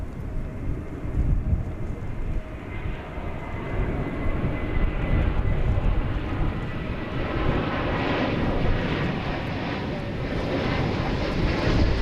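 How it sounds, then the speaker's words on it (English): An American Airlines Airbus A321 arriving at DFW Airport gives a steady, loud jet roar lasting throughout, with some wind buffeting the microphone and no talk. "It's an Airbus A321."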